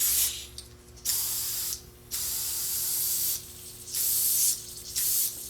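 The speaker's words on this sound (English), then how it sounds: "I'll use my air compressor. I'm going to bring it up to 35, probably 40 psi." Air compressor inflating a tubeless bicycle tire up to about 40 psi, heard as loud bursts of hissing airflow that start and stop several times, with quieter mechanical clicking in between and no talking.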